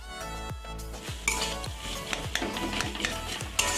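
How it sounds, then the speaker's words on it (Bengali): Cauliflower samosa filling with boiled potatoes stirred in a pan, a spoon scraping and clinking against the metal in a steady rhythm over a soft sizzle, close and alone. "দিয়ে আবার একটু নাড়াচাড়া করে নিয়ে"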